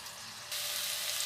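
Chicken pieces (kasoo kola) fry in two spoons of oil in a frying pan, giving a steady hissing sizzle that jumps louder partway through and continues close and even, with no voices.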